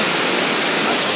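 Steady, dense roar of rushing water pouring down the Cascada del Amor waterfall in Ecuador, loud and close, with no voices.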